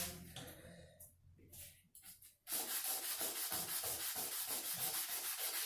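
Metal being sanded in one direction to shine a piece of Mapuche jewelry: close, steady rhythmic scraping strokes after a few short rubbing sounds and a pause.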